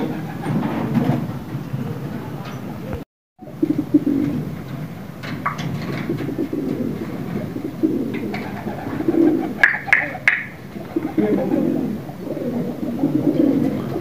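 Pigeons coo softly and repeatedly in low throaty bursts around a rooftop loft, with a brief dropout and occasional faint rustles and clicks.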